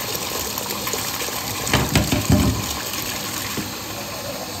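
A bathtub drains quickly after being unclogged, a steady gushing, gurgling rush of water with a few louder sloshing bursts near the middle, close and continuous with no talking.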